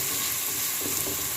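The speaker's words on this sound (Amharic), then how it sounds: "እሺ እንደዚህ ቲማቲም በደንብ ትበስላለች።" Tomatoes sizzle and fry in a hot pan while a sauce for egg macaroni cooks, a steady close crackling hiss with a few soft stirring scrapes and no talk.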